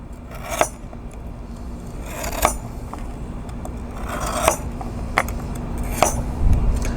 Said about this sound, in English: I'm gonna proceed to add a nice chunk of ice that I'm going to carve